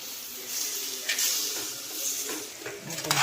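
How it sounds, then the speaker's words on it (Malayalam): Chicken tossed with chilli powder and coriander powder in a hot pan, a steady sizzle under repeated scraping and clinking stirs of a spoon against the pan, fairly close with no voices. "നല്ലോണം ഇളക്കുക."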